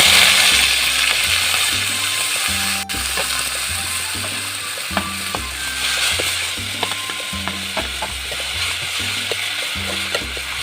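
Dock greens poured into hot oil seasoned with panch phoron in a pan, cooked Assamese style alongside small fish, sizzle with a steady, loud, close hiss, while a rhythmic low thumping pattern runs underneath throughout.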